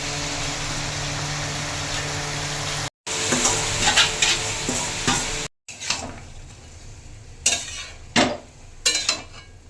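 Boiled banana flower hitting hot oil and spice masala in a pan, with a loud steady sizzle, then a sharp break and scattered scraping stirs and spoon clinks over a quieter fry.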